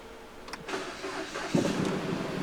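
A Jeep Compass engine cranks briefly and then catches, settling into a steady low idle nearby with no voices.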